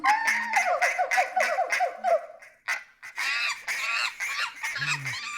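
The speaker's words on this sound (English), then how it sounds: "the sound of those iguanas, ducks, and monkeys bouncing around Light Talk Central" A comic sound-effect medley of ducks, iguanas and monkeys plays on a talk show, with squawking, clucking bird calls and honks tumbling together in a busy, boisterous burst.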